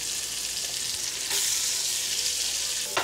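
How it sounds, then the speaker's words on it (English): Chopped onions frying in about a tablespoon of bacon grease left in the pan for homemade chili, a steady close sizzle that flares slightly louder partway through. "I'm gonna drain off everything but about a tablespoon off of that pan, and then we're going to put our onions in there."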